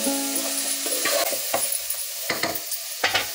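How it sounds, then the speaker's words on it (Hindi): Prawns fry in a pan with onions and chili powder while a spoon stirs them, close scraping strokes over a light, steady sizzle with no talk. "और थोड़ा प्रॉन को फ्राई होने देंगे प्याज के साथ"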